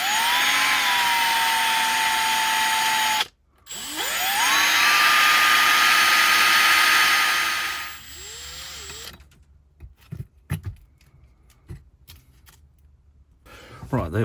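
A small power drill works on the rivets of a Dinky Toys 152 Austin Devon diecast car, whining steadily in two long bursts before stopping, followed by scattered clicks and handling noises.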